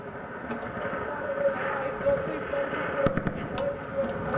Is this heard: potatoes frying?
no